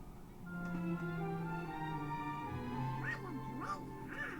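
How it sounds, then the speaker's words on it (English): Donald Duck quacks in the Disneyland Adventures video game during a hug, a loud, raspy, wavering cartoon duck voice with rising and falling squawks over steady game music. "So let's get a hug from Donald Duck right now"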